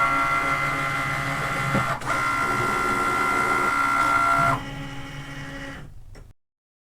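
A Cricut cutting machine cuts a gray vinyl circle monogram decal, giving a steady close mechanical whir and hum that runs unbroken, drops in level near the end, then stops.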